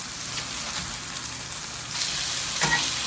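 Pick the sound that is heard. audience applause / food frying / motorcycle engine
food frying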